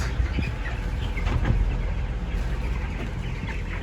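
Broiler chickens cluck over a steady, noisy indoor hum in a coop, with occasional sharper calls scattered through the murmur.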